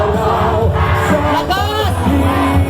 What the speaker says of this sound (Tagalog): Isigaw po natin, Bongbong Sara